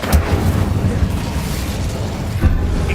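Incendio fire spell blast in Hogwarts Legacy, a loud, dense, roaring burst that fills the whole stretch with a couple of heavier thumps, close and continuous.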